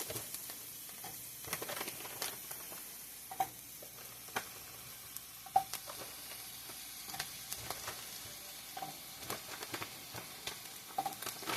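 Sausage fries in a pan with a quiet, continuous sizzle punctuated by scattered pops and occasional scraping stirs, heard up close with no talking.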